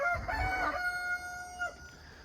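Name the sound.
rooster crowing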